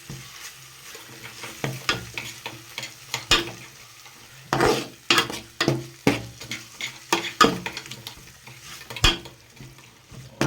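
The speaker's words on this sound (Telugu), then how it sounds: "బాగా తిప్పుకుందాం" A spoon scrapes and stirs fresh coconut, ginger and garlic paste in a pot for egg pulao, giving irregular clattering strokes over a steady low sizzle, close and moderately loud, with no voices.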